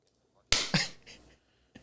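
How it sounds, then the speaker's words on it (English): A single hand clap marks the start of a recording, a sharp, close smack in a quiet room followed by a short rebound and faint noises. "Is that what you want me to do, Jeff? Clap."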